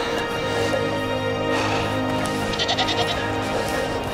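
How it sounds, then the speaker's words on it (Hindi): A herd of goats bleating along the Karakoram road in the mountains, several overlapping calls rising and falling over a steady outdoor background, growing more frequent toward the end. "बकरियों का झुंड,"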